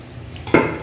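Arabian kabsa being stirred in a pan, with a soft background sizzle that swells into a louder scraping stir and frying crackle near the end.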